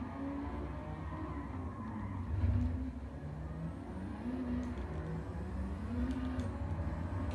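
A 2WD race car with nitrous in a racing video game, its engine droning steadily with rising and falling revs as it runs along, moderately loud and without talk.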